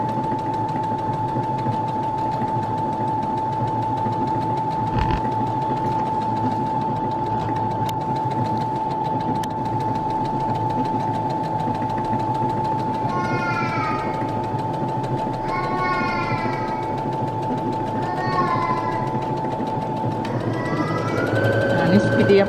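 A Brother A80 sewing machine runs at its top speed with a continuous, even motor whine and rapid stitching hum. Chirping squeaks appear over it midway, and the pitch rises near the end.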